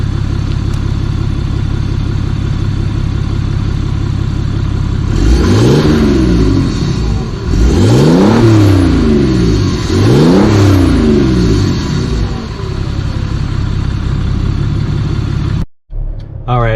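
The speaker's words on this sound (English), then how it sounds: "The car just sounds like it's got a nice rumble." Turbodiesel car heard from inside during repeated acceleration runs, a loud steady exhaust rumble that rises in pitch three times through the gears before settling, with no talk.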